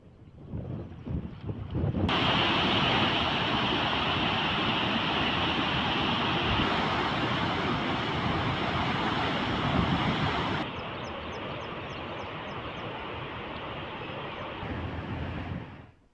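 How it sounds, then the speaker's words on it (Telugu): Floodwater rushing out through fourteen raised radial gates of the Pulichintala dam on the Krishna river during heavy rains, a loud continuous roar with buffeting wind that steps down slightly in level partway through, with no voices. "14 రేడియల్ గేట్లను 4 మీటర్లు ఎత్తి దిగువకు నీరు విడుదల చేస్తున్నారు"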